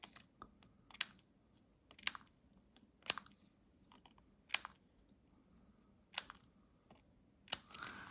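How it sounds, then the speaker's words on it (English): Paper trimmer blade slicing stamped cardstock for a Stampin' Up! Winter Wishes card, heard as a series of sharp, close cutting strokes spaced about a second apart in a quiet room. "This is where you're going to trim it all."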